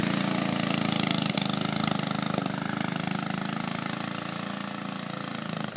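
A Doodle Bug minibike's small engine runs steadily after being kick-started, a close, loud, buzzing putter with a fast even rhythm that holds for the whole stretch without talk.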